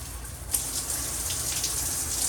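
Water spraying from a shower head, a steady even hiss of spray that holds throughout with a brief knock near the start; no talking.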